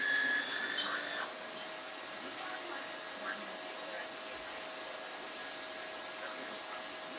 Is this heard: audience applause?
no